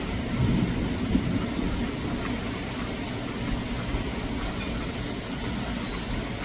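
Steady broadband rush of heavy rain outside with a low rumbling undertone of distant thunder, continuous and fairly even throughout.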